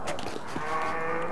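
A cow in the Gothic 3 video game gives a single drawn-out, nasal moo of moderate loudness, heard alone without talk.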